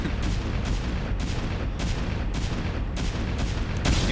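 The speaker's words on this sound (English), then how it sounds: "the photon cannon's pegging away at it" A photon cannon in a StarCraft match fires steadily, a dense stream of rapid blasts and impacts roaring continuously with no pause, loud and close, with no voice over it.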